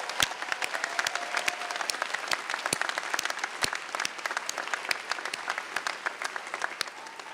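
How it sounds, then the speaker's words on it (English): A large graduation crowd at the 2017 UCLA Fielding School of Public Health commencement applauds in sustained, steady clapping that fills a big hall, with sharp individual claps standing out against the dense wash and no speech over it. "the biggest round of applause goes for everything you have accomplished"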